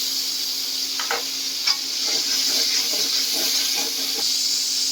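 Water splashed into ginger, garlic and onion paste with green chillies frying in a pan for a potol biryani, giving a steady close sizzle and hiss with a few light stirring scrapes.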